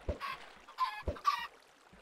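Chicken hurt sounds from Minecraft, a few short, close clucks in quick succession, each a brief squawk, with quiet gaps between them.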